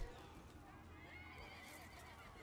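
Horse from the battle game Total War: ARENA giving a faint neigh amid the clatter of hooves and fighting, quiet and somewhat distant, with someone talking over it.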